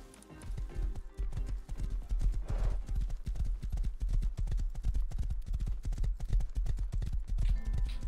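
Horse hooves clop in a fast, steady rhythm in the video game Rust, the galloping beats loud and continuous throughout with no voices over them.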